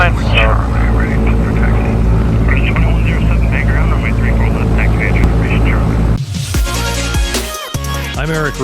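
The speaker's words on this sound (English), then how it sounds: "crazy alternator whine, loud as can be" Alternator whine from an Aerostar Super 700 twin-engine aircraft during start-up, a loud, steady high-pitched electrical tone over constant engine hum and drone, shifting to a rougher, more broadband engine sound near the end.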